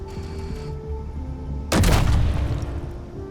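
Burst of gunfire in a survival video game, aimed at a turret, breaking in suddenly after a quiet stretch of steady background hum and ringing on loudly for more than a second.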